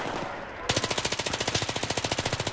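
In a Battlefield 3 team deathmatch, a machine gun opens up with a loud, rapid, evenly spaced burst of automatic fire that continues without a break.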